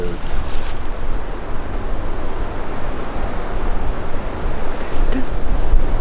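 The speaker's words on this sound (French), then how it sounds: "le vent il se calme là" Steady wind roars against the microphone in a continuous, broadband rush, loud and unbroken throughout.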